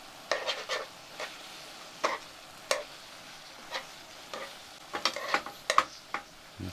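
Chapagetti noodles stir-fried with their sauce powder in a pan over medium heat: irregular scraping and tapping strokes of a utensil against the pan over a soft, faint sizzle.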